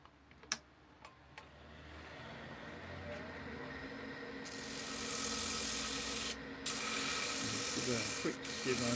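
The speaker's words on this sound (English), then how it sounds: "So I'm going to use a self-powered inertia sander just to get that smooth." A self-powered inertia sander rubs across Milliput epoxy putty, a raspy sanding hiss that starts quietly among a few sharp ticks and then swells into louder, steady friction with brief pauses.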